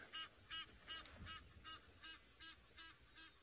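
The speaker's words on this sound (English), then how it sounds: "And there's the noisy geese just to the" Geese honk repeatedly in a steady rhythm, about eight nasal calls in quick succession, fairly faint and somewhat distant.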